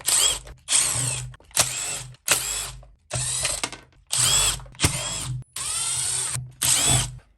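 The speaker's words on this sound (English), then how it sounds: "So in this case, we have a few screws to take off." Cordless power drill spinning out screws from a weed eater's housing during servicing, eight loud separate whirring bursts, each a second or less, with short silent gaps between them.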